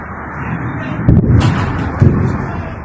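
Two heavy booming explosions in Tehran, one after another about a second apart, over a constant low rumble.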